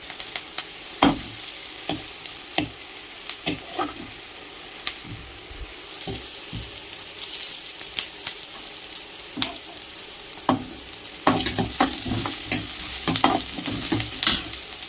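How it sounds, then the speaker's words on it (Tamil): Onions and curry leaves sauté in a pan for kulambu, a steady sizzle of frying with intermittent scraping and clacking as a spoon stirs, close and fairly loud throughout. "மிளகு வந்து உள்ளே அப்படியே ஊற்றி போட்டுடலாம், கொஞ்சம் வதக்கிக்கலாங்க போட்டு."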